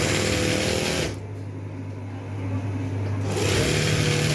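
A sewing machine runs a straight seam on fabric, a loud continuous mechanical whir that drops briefly in the middle before picking back up to full speed.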